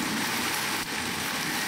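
Rain pours steadily onto a hunting stand outdoors, a dense, loud, continuous hiss of drops drumming on the surface with no break and no talk.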